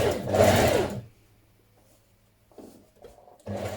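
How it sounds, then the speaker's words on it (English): A sewing machine runs a flat inside-leg seam on a children's jumpsuit, whirring loudly in a one-second burst, pausing, then starting again in short stitching runs near the end. "Stitch your inside leg."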